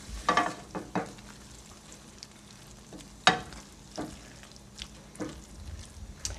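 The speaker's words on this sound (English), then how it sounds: "Just stir that around, get that all incorporated so it all looks nice and creamy." A creamy mushroom and leek mixture is stirred in a pan, with a soft steady sizzle broken by several sharp utensil scrapes and clinks, one especially loud near the middle.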